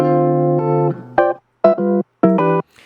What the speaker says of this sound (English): The dry signal only has a tiny bit of compression